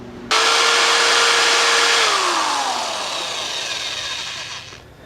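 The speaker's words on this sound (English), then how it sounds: "Actually a Black & Decker drill down there. I think it's working." A Black & Decker cordless power drill whirs loudly, starting abruptly, its motor pitch holding then dropping as it spins down and fades near the end.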